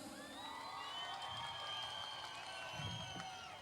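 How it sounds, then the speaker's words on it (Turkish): A festival crowd at a highland yayla celebration claps and cheers on request, fairly distant and faint, with whoops, scattered shouts and a few voices rising over the clapping. "Bakalım haram olsun diyenler alkışlasın."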